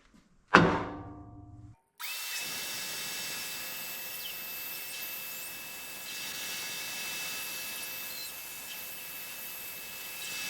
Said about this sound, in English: take it over to the bandsaw.